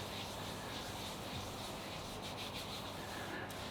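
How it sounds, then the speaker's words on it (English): A hand rubs a bare ankle joint during a yoga lotus posture, making a continuous, close, soft rubbing hiss with no pauses and no speech. "give it a rub, ankle joint"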